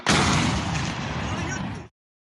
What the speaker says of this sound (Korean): 러시아 수도 모스크바 상공을 비행하던 우크라이나 드론이 수직으로 낙하하고 큰 폭발이